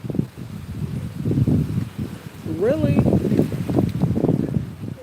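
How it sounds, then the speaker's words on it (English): Gusty wind buffets the microphone with low rumbling bursts while a person talks briefly over it. "It is super windy out here."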